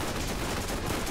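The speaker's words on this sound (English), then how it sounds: "I'm sure that we hear a lot due to all the gunfire." Dense gunfire in the video game Borderlands, a loud continuous burst of rapid shots filling the whole moment with no talking.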